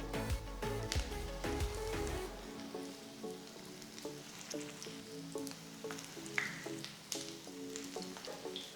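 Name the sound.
aloo paneer patties shallow frying in hot oil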